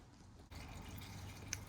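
Engine oil drains from the open drain plug of a 2020 Triumph Street Scrambler in a faint, steady trickle that starts abruptly and keeps running.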